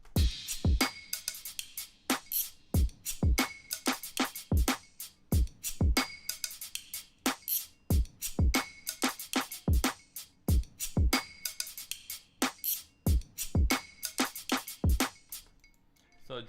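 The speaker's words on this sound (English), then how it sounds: "the drums sound like this now that they're all mixed" A mixed electronic drum beat thumps along in a steady, driving pattern of punchy kicks and bright, clicky percussive hits, loud and continuous for the whole stretch.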